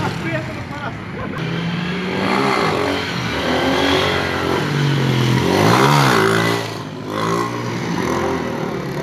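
A motorcycle engine revs up and down in rising and falling bursts for a wheelie, close by, with people shouting and talking over it.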